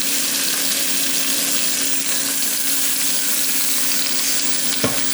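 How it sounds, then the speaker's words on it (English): Lamb shanks sear in a hot pan for a braise, a steady broadband sizzle holding loud and even throughout, with a faint clink near the end and no talking. "So we're going to sear these off for a minute or two on each side"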